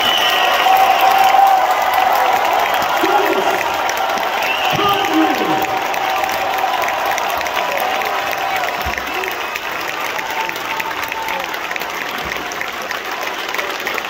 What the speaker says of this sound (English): on your feet, hands together, as loud as you possibly can.